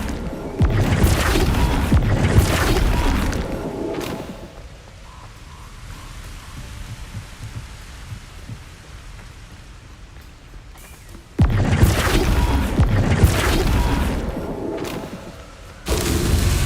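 Spell impacts from Flipendo being cast in Hogwarts Legacy, loud booming bursts with a rain-like rushing noise, a heavy blast at the start, a quieter stretch in the middle, then two more loud bursts near the end.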